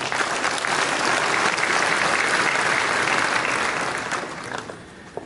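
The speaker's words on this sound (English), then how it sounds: "let's also give them a round of applause." Conference audience at the Open Compute Project summit breaks into sustained, dense applause, steady for several seconds before thinning out toward the end.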